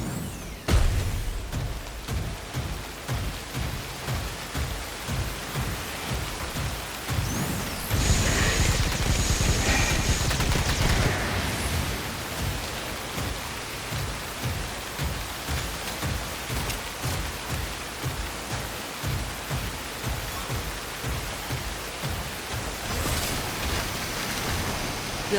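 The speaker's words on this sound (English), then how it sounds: "Find cover from the rain on the double." Heavy rain falls steadily in the video game SYNDUALITY Echo of Ada, a dense continuous hiss with a rhythmic pulsing beneath and a louder, fuller downpour surge partway through, no voices.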